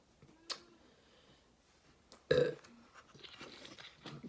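A burp after swallowing malt liquor, one loud, abrupt belch standing out near, with a faint click before it and quiet rustling after.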